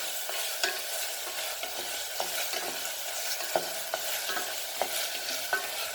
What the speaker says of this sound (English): Fry it nicely.